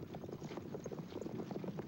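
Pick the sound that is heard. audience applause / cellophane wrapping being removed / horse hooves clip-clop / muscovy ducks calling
horse hooves clip-clop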